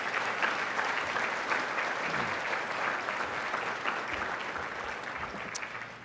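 Sustained audience applause at a school lunch gathering honoring administrators, donors and friends, steady and dense throughout and tapering slightly at the end.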